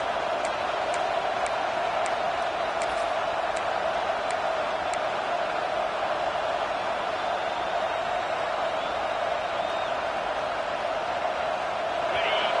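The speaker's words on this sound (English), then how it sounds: "This crowd busting the decibel meter and trying to will a 4th down stop." Loud, steady roar of a football stadium crowd before a 4th down in an A&M versus Penn State game, a dense wall of noise holding for the whole stretch with faint ticking above it.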